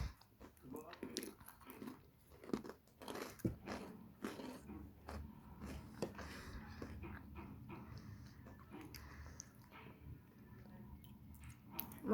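Crunchy freeze-dried strawberry space ice cream is bitten and chewed close to the mic, giving irregular crisp crunches and smacking bursts under a steady low background hum.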